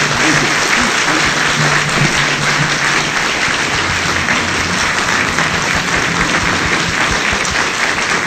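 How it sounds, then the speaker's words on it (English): An audience at a lecture on international affairs applauds a senator with loud, dense, sustained clapping that fills the room evenly throughout, no voices standing out. "Let's give him a round of applause."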